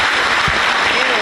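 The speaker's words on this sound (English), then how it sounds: "Let's have another nice round of applause for Bobby Mills, the 2019 inductee to the Highlands Basketball Hall of Fame" A crowd applauds a 2019 Highlands Basketball Hall of Fame inductee at a high school basketball game, dense loud steady clapping throughout with voices mixed in.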